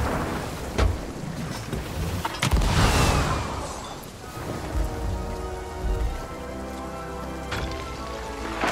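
Heavy rain from a storm in a video game pours down steadily, with broadband hiss and a few sharper louder splashes, with no talk over it.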